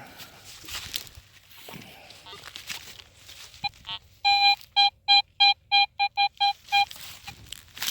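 A run of sharp, evenly pulsed electronic beeps from a metal detector, loud and close, following some quiet rustling and faint muffled sounds.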